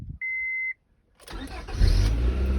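A fifth-generation Honda Prelude starts up after its fuel pump was replaced: a short electronic chime, a pause, then the engine cranks and catches, settling into a loud, close idle.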